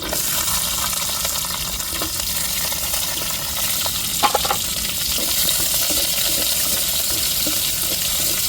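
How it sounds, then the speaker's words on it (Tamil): Shallots and curry leaves fry in a pan with a loud, steady, close hiss of oil, broken now and then by a light clink or two. "வெங்காயம் நல்லா வதங்கட்டுங்க"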